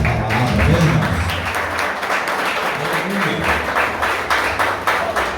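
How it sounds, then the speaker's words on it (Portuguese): A church congregation breaks into steady applause during a service, a dense wash of clapping that runs the whole stretch, with voices faintly mixed in underneath. "Pode aplaudir o Senhor por essa palavra, amém, irmãos?"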